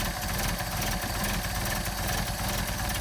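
A Mercedes 190SL engine with Solex carburetors idles cold after sitting unused for a week, giving a steady, continuous mechanical drone at an even level throughout.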